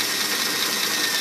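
A 180V DC motor drives a Mars lathe at its minimum speed, geared 3-to-1, giving a steady, continuous hum and whir with a faint knocking texture, close and unbroken, with no talk.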